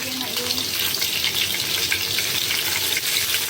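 Steady, dense sizzling and crackling of food frying in hot oil, continuous and fairly loud throughout.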